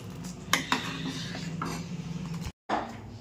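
A spoon scrapes and clinks against a pot while rice flour firni is stirred, with a couple of sharper metallic knocks over a low steady background hum, close and fairly quiet.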